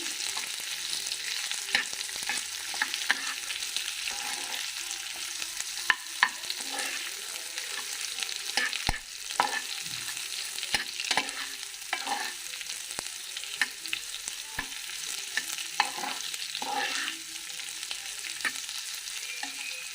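Grated carrots are stirred into a garlic and chili paste in a hot pan, giving a continuous soft sizzle broken by repeated scraping and tapping of a spoon against the pan, close and without voices.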